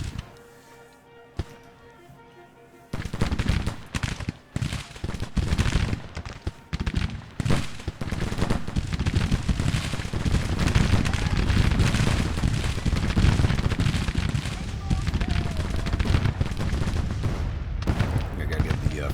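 Civil War regiments open fire in the strategy game Grand Tactician: The Civil War, a quiet start giving way to dense, sustained crackling volleys of gunfire that rumble on loudly with no letup.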